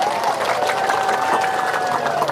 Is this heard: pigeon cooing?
no